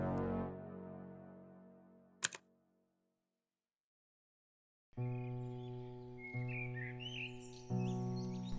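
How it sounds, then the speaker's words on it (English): Birds chirp in late spring in New York, with bright intermittent tweets starting after a brief silence and sitting over a sustained tonal background. "Blue skies, chirping birds, and spectacular bloomings."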